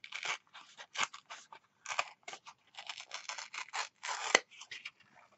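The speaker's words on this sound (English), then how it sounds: "just trying to get a rough measure of where to rip it again" Paper being torn by hand for a Halloween mixed media craft tag: a series of short, close, crisp ripping and rustling bursts with brief pauses between them, quiet and without talk.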